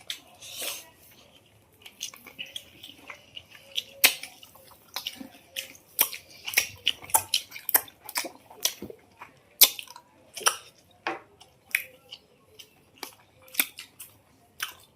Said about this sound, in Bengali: চকলেটটা খাইতে গেলে কি সুন্দর শব্দ হচ্ছে, ভালো লাগতেছে